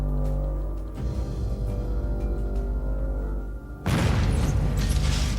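An explosion goes off during a big magic stage show: a low rumbling backdrop gives way to a sudden loud burst that stays as a thick, roaring wash to the end.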